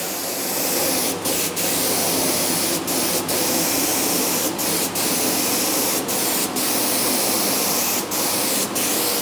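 A Graco HVLP 9.5 paint spray gun hisses continuously and loudly in a small workshop, with several brief pauses where the trigger is released.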